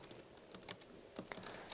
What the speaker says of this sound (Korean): 헤더라고 타이핑을 하나 해줄게요.